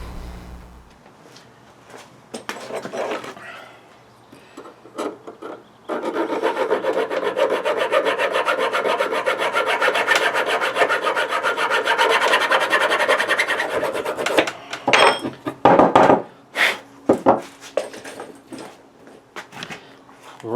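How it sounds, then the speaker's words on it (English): Hand file rasping grooves into a wooden tube for a T-fitting mallet, a close, steady scraping that runs for about nine seconds, followed by uneven knocks and scrapes. "I've filed these grooves."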